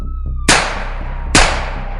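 Two sharp, loud gunshot blasts about a second apart in a true crime retelling of a police shootout, each a sudden crack with a short decaying tail over a low hum.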